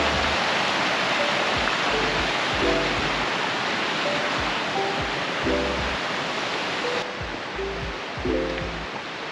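A river runs steadily near waterfalls in Yoho National Park, a broad, even rushing wash heard throughout at moderate distance, with faint scattered bird chirps over it.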